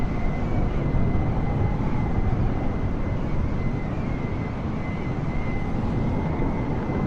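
Airliner taking off from runway 23 at an airport, a loud, steady jet roar with a faint high whine, holding constant throughout without any voices.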